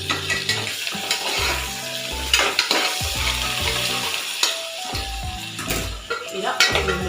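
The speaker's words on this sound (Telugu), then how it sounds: "ఇలా 2 మినిట్స్ అల్లం వెల్లుల్లి పేస్ట్ పచ్చివాసన పోయడం వరకు ఫ్రై చేసుకోవాలి." Ginger garlic paste fries in a pan with a steady, close sizzle, and a spoon scrapes and stirs against the metal at intervals, with no talking.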